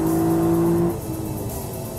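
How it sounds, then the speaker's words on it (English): The 5-liter V8 engine of a Lexus LC accelerates with a loud, steady, tonal drone that drops slightly in pitch and level after about a second, heard from inside the car with no talk. "Just gotta love this 5-liter V8, nothing like it."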